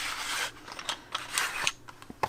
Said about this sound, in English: It sharpens these Statler highlighter pencils that I bought.